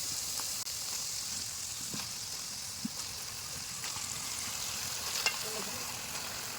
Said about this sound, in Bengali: তো আমাদের মশলাটা হয়ে এসছে কষা, এখন আমরা খাসির মাংসটা দিয়ে দেবো।